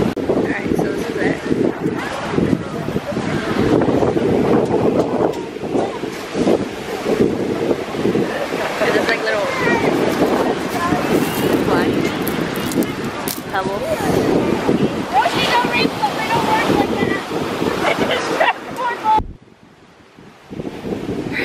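Strong wind buffets the microphone while surf rolls in at a black sand beach on Maui, Hawaii, a continuous roaring wash that suddenly drops away near the end.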